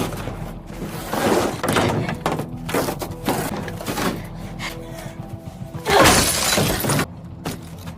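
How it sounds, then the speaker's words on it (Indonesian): Window glass smashed in a Korean thriller film scene, a loud burst of shattering with bright crashing debris around the middle, set among thuds, bangs and other scuffling action noises. "mereka langsung masuk ke dalam dan memecahkan kaca jendela"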